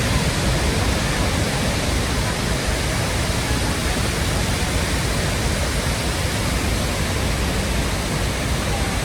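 Niagara's Horseshoe Falls pours onto its base in a loud, steady, dense roar of crashing water that holds constant throughout, with no voices.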